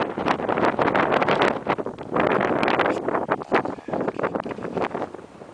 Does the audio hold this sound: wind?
yes